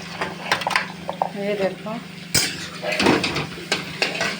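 Eggplant being stirred in a pan, with short clattering knocks and scrapes of a utensil against the metal, while a voice speaks over it.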